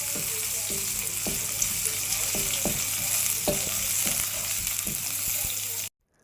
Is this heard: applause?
no